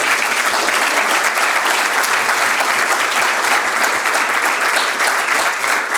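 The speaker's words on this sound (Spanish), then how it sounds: "el aplauso para Guillermo" A seated audience at a colloquium gives Guillermo sustained, loud applause, a dense, even patter of many hands for several seconds without talk.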